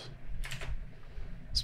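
Computer keyboard keys pressed for shortcuts while working in Blender 2.8, a few soft clicks in short bursts close to the mic, with quiet background hum.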